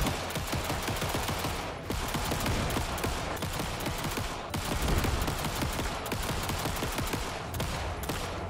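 Gunfire from the video game Alan Wake 2: Night Springs rattles out in a dense, sustained barrage of rapid, loud shots over several seconds, with brief pauses between bursts.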